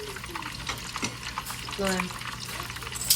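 Chicken frying in a pan gives a continuous crackling sizzle with bursts of spattering, close and fairly loud, while a voice speaks faintly in the background.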